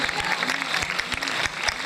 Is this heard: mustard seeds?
no